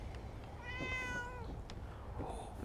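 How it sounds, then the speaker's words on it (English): A cat meows once in a Fallout 4 farm setting, a clear rising-falling call of about a second standing out over a steady low ambient hum, followed by a couple of faint shorter sounds. "You guys got a cat?"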